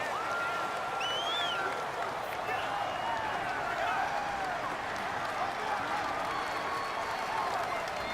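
Steady stadium crowd roar from the Madden 19 football game, Bears versus Packers, a dense, continuous wash of cheering and noise with no pauses, loud throughout.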